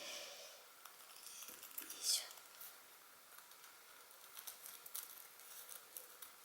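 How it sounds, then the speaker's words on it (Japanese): Blunt cheap scissors snip softly through thin tissue paper in short, faint, irregular cuts, with a brief sharper sound partway through. "これ100均のハサミなんで切れ味悪いですね。"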